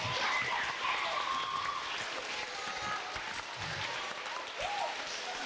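Applause from a school audience at a clean water program rings out steadily for several seconds, moderately loud, with faint voices and a brief rising call mixed in.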